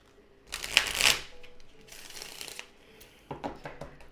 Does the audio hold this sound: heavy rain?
no